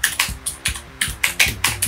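Fingers type on a Keychron K6/K8 mechanical keyboard, giving about eight crisp, clacky keystrokes in a quick, slightly uneven rhythm, close to the microphone with no talk.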